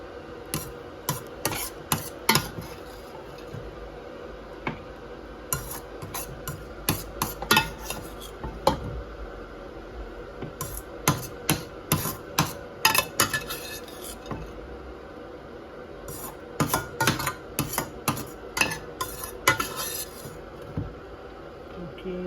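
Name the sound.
putting ground food into a cooking vessel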